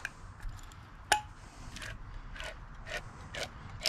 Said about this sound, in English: I'm simply just going to pop open a can of vegetable soup here.